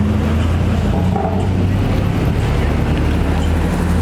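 A Toyota Celica passing on a city street, a loud, broad engine and road rumble close by, roughened by wind noise on the microphone.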